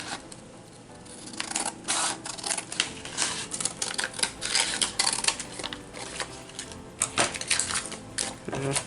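Tea-dyed paper for a journal is cut down with scissors, giving a run of close, crisp snipping and rustling crunches in uneven bursts, with no talking.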